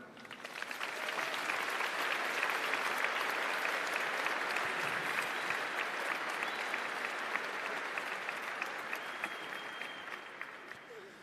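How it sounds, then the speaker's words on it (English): Sustained audience applause fills a graduation ceremony hall, a dense, steady wash of many hands clapping at moderate volume that holds for the whole stretch without a break. "let's give her a round of applause"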